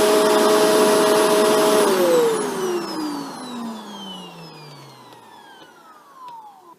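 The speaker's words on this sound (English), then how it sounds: "Now we're going to run the vacuum through a few tests." A Shark Rotator NV752 upright vacuum cleaner whines loudly at a steady pitch, then its motor winds down with a falling tone as it shuts off and fades out.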